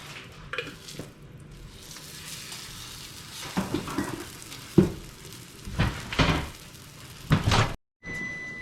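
Bread cooks in butter on a campfire stove with a soft continuous sizzle, punctuated by scraping, stirring clatter and a few louder knocks from the pan and utensils, then a brief drop to near silence.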